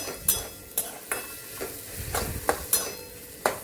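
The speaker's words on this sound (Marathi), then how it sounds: "तिखटाप्रमाणे आपल्या लाल तिखट टाकून घ्यायचं आणि बघू शकता असं सगळं हलवून घ्यायचं" A spoon stirs red chili powder through a vegetable curry in a pan, scraping in distinct strokes roughly every half second over a soft, steady sizzle, close and moderately loud with no talking.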